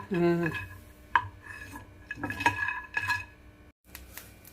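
Peanuts roasting in a pan for a stuffed snake gourd curry, stirred with a metal spoon that clinks and scrapes against the pan, quiet and close, with a brief voice-like tone at the start.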